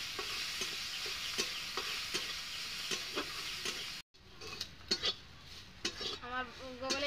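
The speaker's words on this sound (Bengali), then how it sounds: "এখন আমি ভাজে নেব গ্যাসে ভালোভাবে।" Gaglika fish with salt fries in a pan on a gas stove, a steady sizzle broken by rhythmic metal spatula scrapes and clinks, then quieter after a brief cut, with a voice briefly heard near the end.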